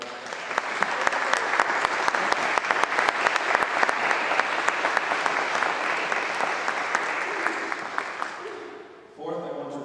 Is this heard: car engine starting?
no